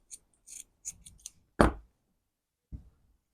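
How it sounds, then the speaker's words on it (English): Scissors snip through a stretchy fabric piece for joggers or a crop top, with a few short crisp cuts up close and one louder clipped chop, separated by quiet gaps. "I'm going to go ahead and cut out the second one."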